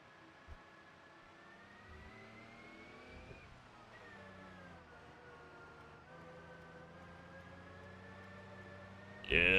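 A 171-horsepower car in BeamNG accelerates hard through several gear changes, its engine whine climbing steadily in pitch with each shift. The sound stays fairly quiet before a louder burst right at the end.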